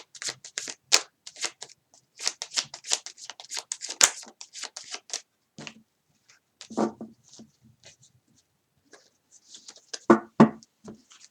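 Tarot cards being shuffled by hand in quick, papery riffling bursts with pauses between, fairly close and soft, alone without talk.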